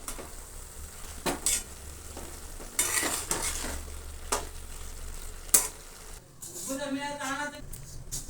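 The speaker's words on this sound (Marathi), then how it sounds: "हे शेंगदाण्याचा कूट आहे हे पण टाकून घेणार आहे मी छान हलवून घ्यायचं" A spoon scrapes and stirs mixed vegetables with crushed peanuts in a sizzling pan, a soft frying hiss beneath intermittent clinks and scrapes, while someone talks over it.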